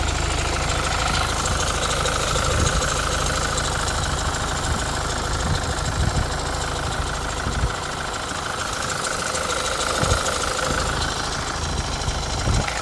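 A stock 2019 Hyundai Tucson diesel engine idles up close, a steady clattering rumble with a rhythmic knock and no talking.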